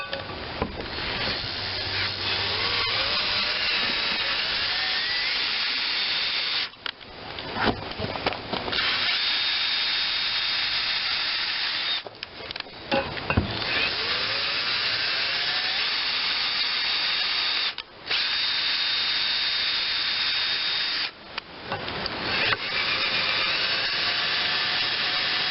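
A power tool whirs steadily as it drives a regular thread tap through a metal bolt hole on a Mighty Mac chipper shredder, running in long close bursts separated by brief pauses.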